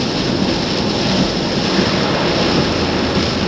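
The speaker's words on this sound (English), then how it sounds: "Little waterfalls everywhere, guys." Floodwater rushes over small waterfalls during heavy flooding in Sydney, a loud, dense, unbroken roar with wind buffeting the microphone and no voices.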